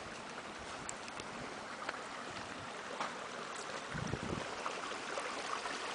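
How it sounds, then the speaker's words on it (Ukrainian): Steady broadband rush of flowing stream water below a waterfall in winter, continuous and fairly close, with a few brief low thumps partway through. "Шумить вода. Чуєте?"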